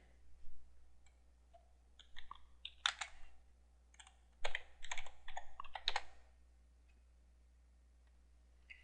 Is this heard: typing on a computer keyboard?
yes